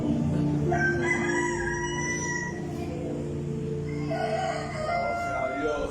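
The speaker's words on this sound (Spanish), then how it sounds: "Ahí sonó ese gallo." A rooster crows in long drawn-out calls, one followed by another a few seconds later, fairly clear over a faint background murmur.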